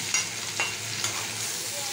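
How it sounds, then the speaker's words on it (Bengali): Potatoes for alu chochchori fry in oil in a pan, a soft, steady sizzle close by with a few faint clicks of stirring and no talk. "এই যে আমার আলুটা ভাজা হয়ে গেছে"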